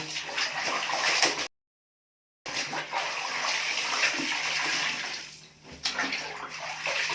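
Laundry being rinsed in a large basin after two rounds of soap, the fourth rinse, with water sloshing and splashing steadily and close by, broken once by a brief pause.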